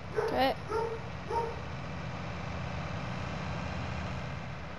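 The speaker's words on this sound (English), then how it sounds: "Those are my annoying dogs barking away." A few short dog barks and yips sound at the start over a steady low background hum, then only the hum continues.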